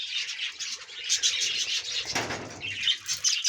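Busy bursts of wing flapping mixed with high chirps from several birds nearby, continuous and lively throughout.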